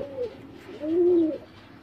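Pigeons kept in coops coo softly nearby, giving two low rolling coos, the second longer and fuller, against quiet background noise.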